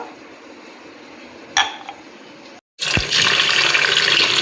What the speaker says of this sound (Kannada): ಅಕ್ಕಿ ತೊಳಿತಾ ಇದ್ದೀನಿ